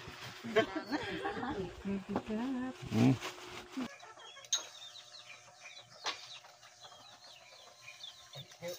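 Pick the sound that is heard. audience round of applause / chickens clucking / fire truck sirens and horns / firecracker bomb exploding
chickens clucking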